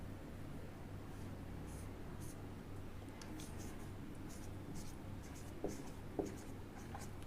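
Chalk or marker strokes on a classroom board, faint scratchy writing over a steady low room hum, with two small taps near the end.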